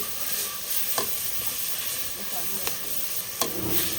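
Turmeric, salt and chillies sizzle in hot oil as the spice base for a Punjabi mutton curry is fried. A constant frying hiss runs under occasional scraping clicks of a spoon stirring the pan.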